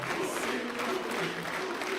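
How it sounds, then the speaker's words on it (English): A large arena crowd at a League of Legends EU LCS 2015 Summer match cheers and applauds in a steady, dense roar of mixed voices that holds throughout without breaks. "people cheering for Huni so far."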